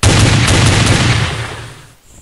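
Bombs dropped from an RC helicopter in a video game, a dense burst of rapid booming blasts that fades out over about two seconds.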